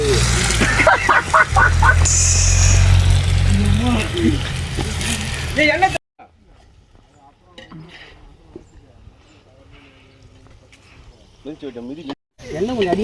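Cinnamon and cloves fry in hot oil for mutton biryani, a loud crackling sizzle for several seconds under a talking voice, then quieter kitchen sounds and chatter.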